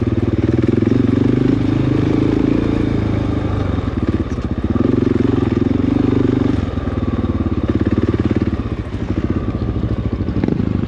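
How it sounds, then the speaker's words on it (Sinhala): An off-road motorcycle rides in low first and second gear on rough trails at Hanthana, Sri Lanka, its engine a loud, continuous close-up drone with surging and easing revs and occasional clattering. "ගොඩක් වෙලාවට මේක යනවා නම් ඉතින් ෆස්ට් සෙකන්ඩ් ගියර් වල තමයි ඉතින් ගොඩක් වෙලාවට යන්න ඕනේ"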